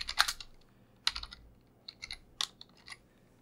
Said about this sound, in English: type in our attack box address there